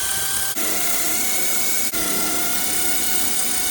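An impact or air tool loosens the four upper radiator core support bolts on a 2005 Mitsubishi Galant 3.8L V6, giving a loud, steady high-pitched whir that runs throughout with two very brief breaks.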